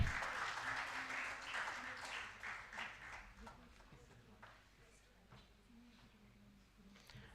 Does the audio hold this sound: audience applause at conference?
yes